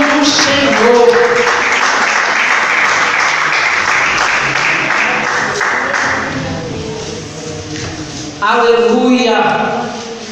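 Congregation in a church service clapping together, a sustained crowd of hands under a preacher's voice for most of the stretch, fading slightly before a louder burst near the end as speech continues.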